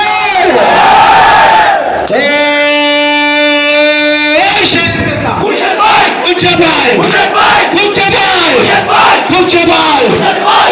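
A rally crowd chants a slogan in loud, rhythmic unison after a speech. A sustained tonal call comes first, then repeated shouted bursts in a regular beat.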